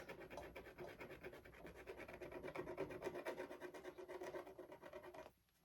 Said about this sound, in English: you guys can see how when you rub off the polka dots or whatever design